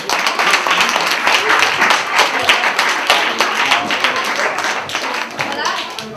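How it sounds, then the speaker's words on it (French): An indoor audience applauds a competition jury, dense steady clapping from a crowd at close range, continuous for several seconds with a few voices mixed in. "je pense qu'on peut les applaudir"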